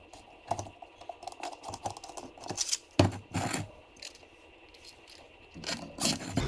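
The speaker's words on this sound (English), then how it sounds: "We'll throw this zip tie in there." Plastic zip ties are ratcheted tight on a DIY lionfish cage, giving bursts of quick clicking, zipping rasps with scraping and handling noise between them, close and fairly loud.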